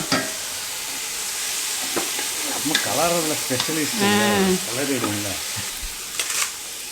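Ginger, garlic and green chilli paste sizzles and fries in a pan while being stirred steadily, a broad hiss with scraping strokes, and voices talk over it partway through.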